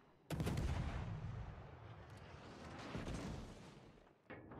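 Naval gunfire from an enemy warship in World of Warships Legends: a loud, close, booming gun blast opens into a sustained rumbling roar and fades, with a second report near the end.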